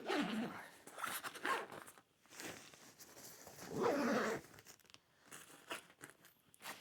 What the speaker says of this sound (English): There's my zip.